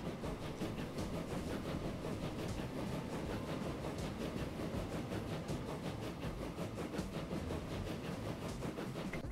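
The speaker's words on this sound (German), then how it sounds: "jetzt müssen wir eben warten, dass die Züge hier durchfahren" Trains passing through a rail passing loop in the video game Transport Fever, a steady dense rumble with faint rhythmic clatter, continuous and alone with no talk.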